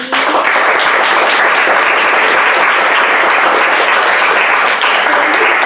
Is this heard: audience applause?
yes